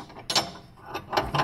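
A bushing pusher tool turned by hand on a BMW E90 325i rear subframe, pressing out the lower inner bushing: a few close, short metallic ratcheting clicks in separate bursts, with no talk.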